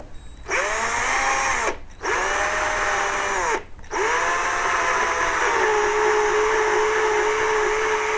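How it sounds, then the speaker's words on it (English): A power drill drilling out the rivets on a die-cast Corgi Buck Rogers Starfighter toy, a loud steady whine in three long bursts with brief pauses, close up. "the first thing I need to do is to get the toy apart, which involves drilling out the rivets here."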